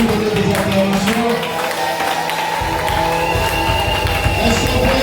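A church congregation at a praise service breaks into loud sustained applause and joyful shouting, a dense crowd roar with clapping and cheers continuing throughout, with a low droning musical tone underneath.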